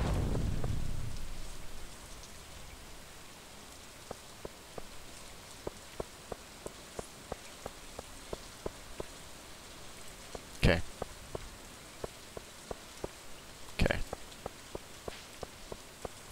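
Rain and hail in Stardew Valley winter weather, a steady soft hiss with scattered sharp ticks of pellets striking, plus two louder cracking hits midway, with no voices.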